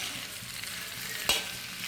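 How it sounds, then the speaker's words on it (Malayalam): A spatula scrapes and stirs through thick ripe jackfruit in a heavy-bottomed pan over a steady sizzle, with one sharp scrape near the end. "ചക്ക ഇങ്ങനെ ഇളക്കി ചേർത്തുകൊണ്ടേ ഇരിക്കണം"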